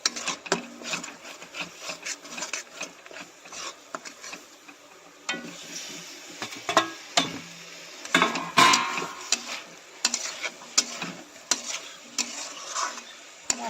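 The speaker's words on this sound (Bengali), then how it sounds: "যে পটল আলুগুলো ভেজে রেখেছিলাম ওগুলো অ্যাড করে দেবো" Fried potatoes and pointed gourd tipped into a pan over spices and stirred, giving scattered scraping, knocking and soft sizzling clicks that come in uneven bursts, close by and moderately loud.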